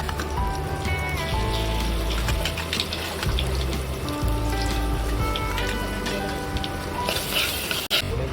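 A paste of coconut, coriander, ginger, green chili and peanuts goes into a hot pan, sizzling and bubbling steadily, with scraping clicks of a spoon and a brief sharp knock near the end.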